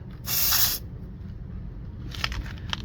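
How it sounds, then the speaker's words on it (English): A portable tire inflator's air hose being fitted onto the valve of a 195/65 R15 car tire: a loud, short burst of hissing air, then quieter clicking and fiddling sounds at the valve. "Now let's go ahead and put in the air hose."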